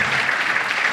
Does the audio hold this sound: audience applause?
yes